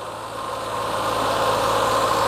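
A Daihatsu Xenia engine idles steadily with its radiator fan spinning, a constant close hum and whir with a low rumble and no pauses.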